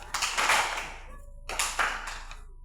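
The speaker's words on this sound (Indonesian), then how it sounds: "Tepuk tangan bervariasi." Hand clapping in a primary school lesson: two bursts of quick, varied claps, close and fairly loud, separated by a short pause.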